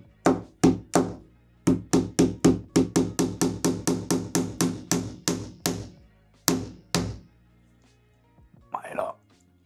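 A hook being hammered into place while building an indoor cabin in an apartment, with a rapid run of about twenty sharp close taps that stops, then a brief voice near the end.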